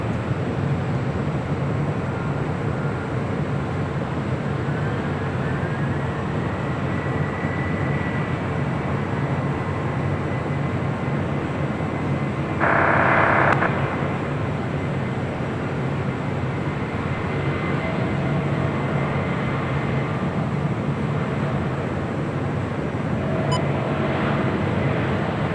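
Hawaiian Airlines jet taxiing toward runway 24 left at LAX, a continuous low engine rumble and hum held at a steady level, with a short rising whine and a brief burst of brighter noise midway.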